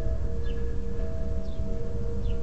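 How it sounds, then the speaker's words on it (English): A tornado siren test in Dubuque, heard as a steady sustained wail with faint outdoor background, no voices. "I just think our sirens sound cool"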